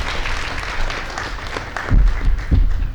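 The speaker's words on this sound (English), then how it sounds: "we can give her a good round of applause" A student assembly audience gives a round of applause, scattered clapping swelling into a fuller burst toward the end.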